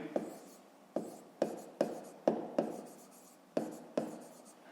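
Handwriting with a pen on paper, close and faint, a steady sequence of about eight scratchy strokes each starting with a small tap, no voices over it.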